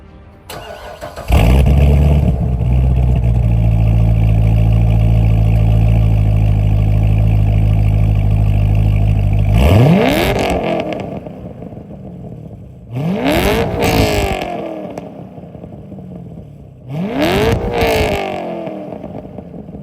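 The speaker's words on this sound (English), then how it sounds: "how does the LS7 sound compared to the LT6? Headphones in, volume up." Corvette Z06 engines, a C6 with a 7.0-litre LS7 V8 and a C8 with an LT6, start up and settle into a loud steady idle, then give three sharp revs that climb and fall, heard up close with no talking.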